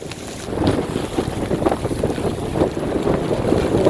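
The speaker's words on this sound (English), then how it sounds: "It's not comfortable, and it's freaking cold and windy." Strong wind buffets a sailboat in rough, cold weather on British Columbia's Inside Passage near the Gulf Islands, roaring as steady broadband microphone rumble with gusting surges and water noise, loud and close throughout, with no talk.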